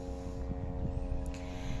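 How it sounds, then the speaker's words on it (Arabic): A military aircraft flies over Gaza during wartime, heard as a faint, steady droning hum with a low rumbling undertone throughout the brief moment. "أصوات الطيران والضرب والقصف"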